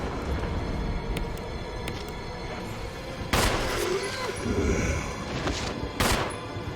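Two sharp bursts of gunfire from the survival-horror game Resident Evil ring out in the second half, loud over a steady bed of game music and rumbling ambience.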